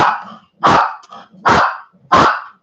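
A dog barks loudly and close by in a house, four deep barks spaced about a second apart, with no talk over them.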